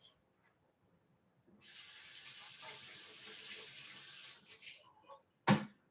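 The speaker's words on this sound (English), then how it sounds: "rinse off the cutting board" A cutting board rinsed under a running kitchen tap: the water comes on and hisses steadily for about three seconds at moderate volume, then splashes briefly and stops, followed by a sharp knock.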